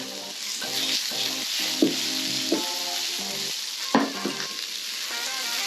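Food sizzles in frying oil in a pan while a kebab is cooked, a constant hiss with a few sharp pops and scraping stir sounds; a melodic background tone runs underneath.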